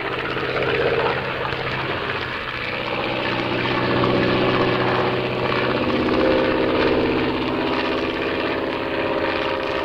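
Aircraft engine throttling up for take-off in a radio drama, a steady droning propeller roar that swells and rises in pitch partway through, loud and continuous with no talk.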